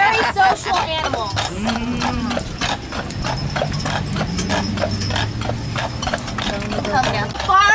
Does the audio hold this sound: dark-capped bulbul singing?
no